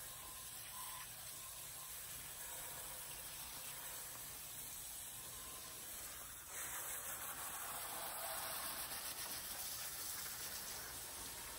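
A low-pressure water spray rinses soap and degreaser off a car engine bay, a steady close hiss and gush that runs the whole time and swells louder partway through.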